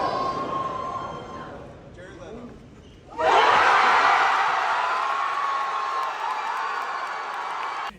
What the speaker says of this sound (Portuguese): o vídeo do povo gritando e aplaudindo